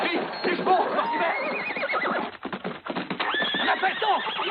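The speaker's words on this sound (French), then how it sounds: "Vite, les chevaux, Mortimer" Horses whinny loudly and hooves clip-clop briskly at close range in a Western film scene, with several neighs rising over the rapid hoofbeats.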